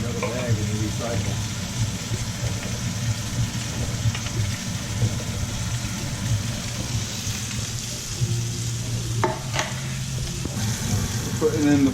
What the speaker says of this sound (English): Putting in the first batch of sausage. And then we're going to fry up another one.